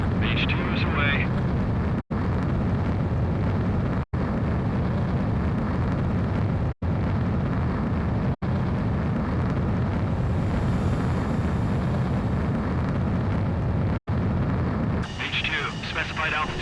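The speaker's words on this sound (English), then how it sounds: "begin takeoff sequence. You're cleared for launch." A jet fighter taking off in the video game Ace Combat 7, with a loud, sustained engine roar and rumble that holds steady for many seconds, broken by brief cuts, while radio voices talk over it.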